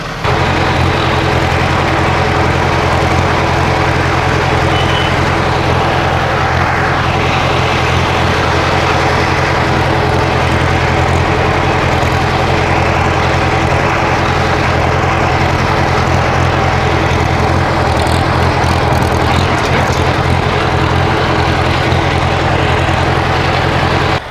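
A Farmall tractor engine, its carburetor out of adjustment, runs steadily and loudly for the whole stretch with a constant low rumble and no voices.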